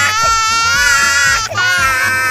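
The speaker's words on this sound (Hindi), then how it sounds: "नेक्स्ट एक बच्चों की रोने की आवाज।" A baby wails loudly and continuously with wavering, strained pitch and a brief catch of breath midway, layered over a steady rhythmic music track.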